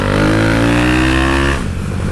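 A Honda CG Today motorcycle revs hard during a wheelie. The close, loud engine note climbs steadily for about a second and a half, then abruptly drops away.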